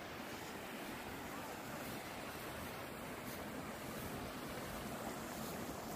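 A river flowing through a natural setting near waterfalls and pools in Ayacucho, Peru, gives a steady, full broadband rush of water, constant and fairly loud from start to finish, with wind noise and no talk.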